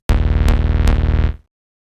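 Sawtooth granular synth squashed by heavy multiband OTT compression, a loud dense buzz with a pulsing low end and three bright transient bursts, stopping abruptly after just over a second.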